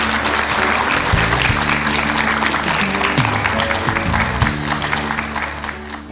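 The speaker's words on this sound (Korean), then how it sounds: "큰 박수 부탁드립니다" Audience applause welcomes a Kyung Hee University professor of Korean medicine onto a TV lecture stage, a steady, dense wash of clapping that holds for several seconds with a low musical tone running underneath.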